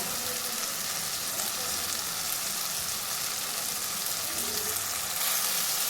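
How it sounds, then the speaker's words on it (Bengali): Chana masala spice mix frying in oil for a vegetarian kabuli chickpea curry, giving a continuous, even, close-up hissing sizzle with no pauses. "চানা মশলাটা দিয়ে ভালো করে একবার কষিয়ে নেবেন"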